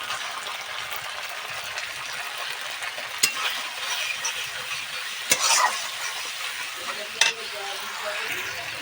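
Ground ripe tomato paste goes into hot oil with fried spices and chilli paste for a bhetki fish kalia, setting off a steady sizzle with a few sharp stirring scrapes, and a voice talks faintly underneath.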